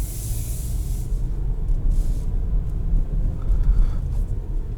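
A 2022 Porsche Macan, the non-S model, drives in sport mode, giving a steady low engine and road rumble with broadband cabin noise and faint airy hiss, continuous and fairly loud throughout.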